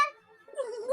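Cats meowing in mourning, played as a sound effect during a tabletop game: a brief plaintive meow near the start, a short lull, then a longer wavering, rising caterwaul that swells toward the end, close and alone.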